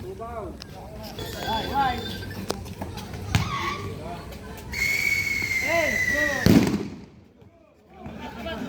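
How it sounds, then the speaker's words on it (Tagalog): Firecrackers go off outside, with sharp bangs and whistling streaks at a distance, heard under excited talking and shouting from people nearby. "sa labas may nagpaputok eh"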